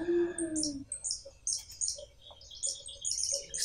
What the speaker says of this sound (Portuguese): É o grimpeiro.